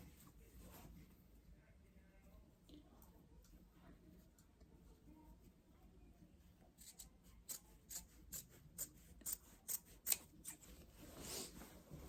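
Scissors trimming a fabric seam during garment sewing, quiet at first, then a run of distinct snips in steady rhythm, close up and soft.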